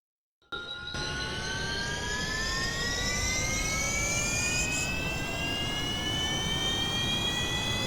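A jet-engined aircraft in Kerbal Space Program, flown in hard mode career, roars up from silence into a loud, steady takeoff whine with rising tones that climb gradually as it accelerates.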